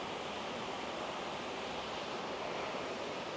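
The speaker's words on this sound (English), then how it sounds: "So I'm sure you can hear the water falling and crashing on rocks and things" Multnomah Falls pouring down and crashing onto rocks, a steady, dense roar of falling water that stays loud and unbroken throughout with no voices.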